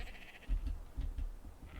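Sheep bleating in the video game ARK: Aberration, several short bleats at a moderate level over a steady low background hum, with no talking.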